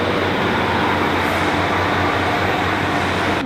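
A Northern train pulls away from Urmston station, giving a steady, close broadband rumble and roar that holds evenly throughout with no voices.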